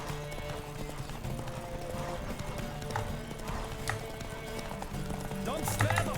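Rapid rhythmic hoofbeats of a horse galloping in a video game race, steady and close, with a brief whinny and faint game ambience underneath.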